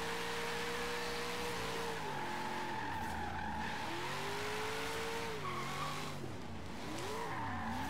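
A 1970 Dodge Challenger in the racing game Forza Horizon 3 skids under braking, its tires squealing in long wavering howls over a steady, loud engine drone.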